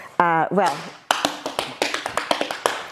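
A short vocal-like tone, then a run of sharp percussive tap dance steps from a whole foot striking a hard floor, quickening into an uneven rhythm, close and clear.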